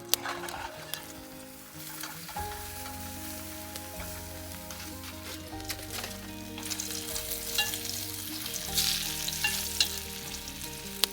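Food sizzles and crackles over a backcountry campfire, a steady close frying hiss with scattered pops that swells toward the end, with no talking over it.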